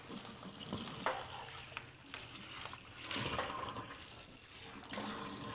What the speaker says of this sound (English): Clean out my pan real quick.